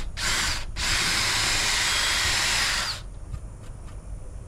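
A power drill pre-drills holes in a wooden garden gate, a loud steady whine lasting a few seconds with a brief break near the start, then cutting off to quieter background.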